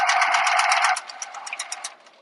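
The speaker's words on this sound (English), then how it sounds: "at the D-ring, I'm going to sew twice. So I'm going to backstitch" A domestic sewing machine backstitches at a D-ring tab on a small wristlet, running in a dense continuous whir for about a second, then slowing into a short series of separate stitching pulses that fade out.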